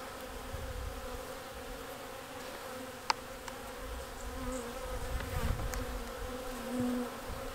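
Honeybees buzz steadily around a nuc hive in spring, a dense close drone with a few louder passes of single bees near the ear.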